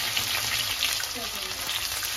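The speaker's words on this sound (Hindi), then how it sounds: "अब डाल रही हूँ अदरक और लहसुन के पेस्ट।" Ginger garlic paste fries in a pan with a dense, even crackling sizzle, close and steady throughout, with no talking.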